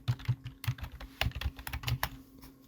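Fingers type text on a computer keyboard in a quiet room, producing a quick, uneven run of close, crisp key clicks and taps over less than three seconds.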